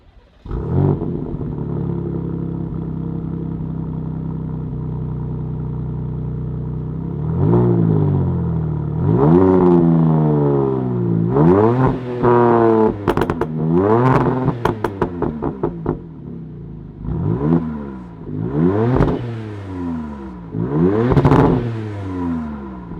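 A 2026 Dodge Charger Scat Pack Sixpack engine cranks and fires into a lumpy idle, then roars through several loud throttle blips, revving up and settling back between each.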